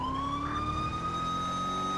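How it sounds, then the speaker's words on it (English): CHP police car siren in a video game, a steady rising electronic wail with a slight upward sweep, fairly close and continuous, heard alone without talk. "we got a CHP siren in."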